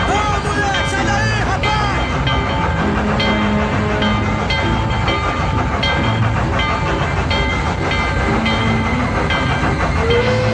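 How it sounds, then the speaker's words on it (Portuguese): A train passing on railway tracks, with a loud continuous rumble and rhythmic wheel clatter plus squealing tones throughout, heard close by with crowd babble mixed underneath. "Não interessa se eu morrer, o trem tem que parar."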